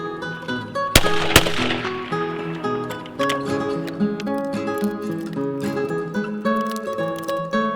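A 20 gauge shotgun fires a reloaded Federal hull: one sharp, loud blast close by, followed by a ringing, tonal outdoor hum with no speech.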